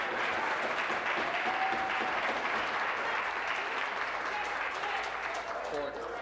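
Members of parliament applaud throughout question period, a dense, steady wash of clapping that fills the chamber from start to finish, with voices mixed into the din.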